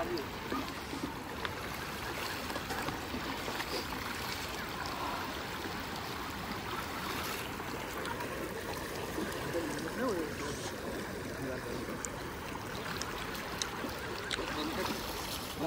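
River water flowing around people bathing below Bhatsa dam near Shahapur in the rain, a continuous close wash of rushing, splashing water with voices talking faintly underneath.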